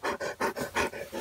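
A dog pants rapidly and close by during an overnight camping trip, six or so loud, rhythmic breathy bursts in quick succession with no talking.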